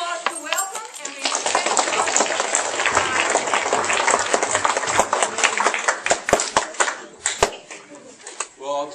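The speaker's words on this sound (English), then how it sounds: "round of applause to welcome" Applause from a school audience welcoming a speaker, dense steady clapping that fills several seconds and then thins into scattered claps as people settle.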